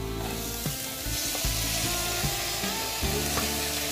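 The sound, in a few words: cooked dal added to sizzling tempering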